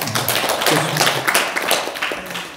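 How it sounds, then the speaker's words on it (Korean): A small audience at a Buddhist meditation talk claps together in a brief burst of applause, close and lively, fading after a couple of seconds. "박수 한번 쳐주십시오."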